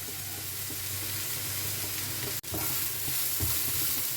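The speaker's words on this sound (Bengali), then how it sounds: "এটাকে মাঝে মাঝে নেড়ে দিচ্ছি।" Teasel gourd (kakrol) with turmeric and Kashmiri chili powder sizzles steadily in a hot pan while being stirred, a close, even frying hiss with a brief clatter partway through.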